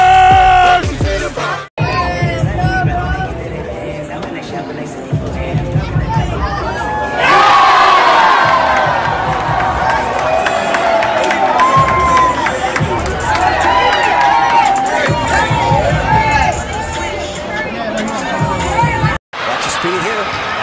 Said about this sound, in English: Milwaukee makes some noise for Red Panda.